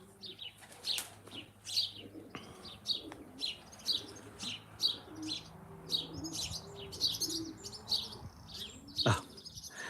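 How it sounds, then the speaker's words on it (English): Many tree sparrows chirp in quick, repeated bursts nearby, with a soft cooing of pigeons in the background and a brief low thump near the end. "All the tree sparrows are going around, few crows."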